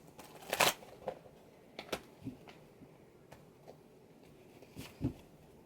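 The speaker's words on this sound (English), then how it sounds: "One more shuffle." Tarot cards being shuffled by hand, soft riffling with a few sharper snaps and taps scattered through a quiet room.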